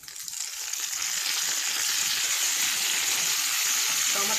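Tomatoes frying in a hot pan with browned onions for fish head moong dal, a dense continuous sizzle building in the first second and then holding steady and close, with no talking.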